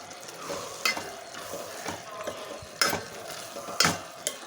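Ridge gourd and chana dal curry with ground chilli and spice masala frying in a pan, stirred in a few sharp scraping strokes over a steady sizzle, close and with no talk.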